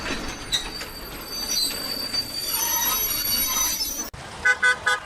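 A train pulls into a station with a long, loud metallic wheel squeal running for several seconds, then sharp clanking and screeching bursts after a brief break.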